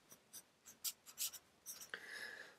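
A pen or marker scratches out a probability sample space diagram on paper, quiet short strokes and dabs in an irregular rhythm, ending with a longer drawn line.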